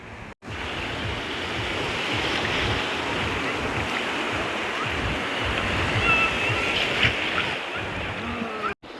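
Sea surf washes steadily onto a beach, a loud, continuous roar of breaking waves close by, with a brief drop near the start and end.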